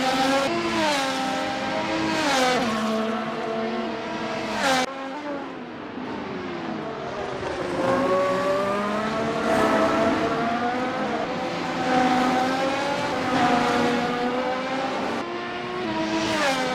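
Formula 1 race cars in a racing video game, including a Ferrari, screaming past one after another with high rising and falling engine whines, loud and close, overlapping in quick succession during qualifying laps.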